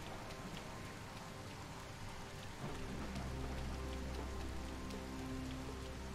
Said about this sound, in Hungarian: Remélem hamarosan eláll az eső.